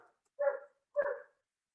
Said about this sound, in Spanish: ¿Escuchar al perro, no?